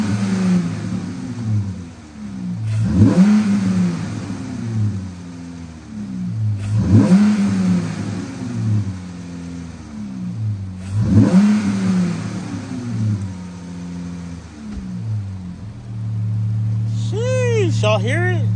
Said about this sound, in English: give you guys a couple revs, check it out.